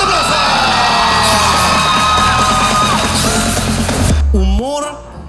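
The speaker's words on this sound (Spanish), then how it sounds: "¡Un fuerte aplauso!" A loud crowd at a live comedy show yells, whoops and cheers for the two finalists, with music playing under the noise, before the roar cuts off abruptly near the end.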